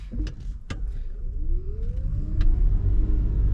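A learner's car pulls away from a parked position on a morning driving test route in Goodmayes, its engine rumbling steadily and rising slightly as it gets moving, with a couple of faint clicks early on and no voices.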